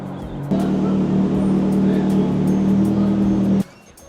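A Mercedes SUV with a GLE 63-type engine starts on a Miami street, bursting into a loud, steady idle rumble that holds for about three seconds before cutting off abruptly.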